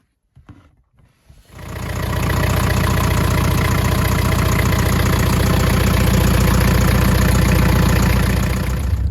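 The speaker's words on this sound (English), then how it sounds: "run the engine today and check everything" A diesel engine aboard a Rival 41 sailboat, recently fitted with a new oil filter and new diesel filters, starts up after a few brief knocks and settles into a loud, steady, close-up idle that runs for several seconds.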